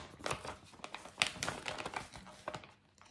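Plastic packaging of a cross-stitch kit being opened by hand, a run of close crinkling and crackling with quick irregular rustles, soft and alone.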